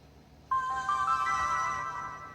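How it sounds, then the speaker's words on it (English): Sony PSP Go handheld console powering up after a connector repair, playing its short electronic startup chime: a bright, sustained tonal swell with layered rising notes that fades out gently, heard alone in a quiet room. "You get that nice PSP startup noise."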